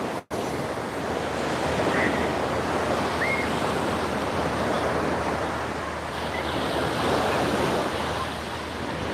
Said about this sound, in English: these waves are just coming in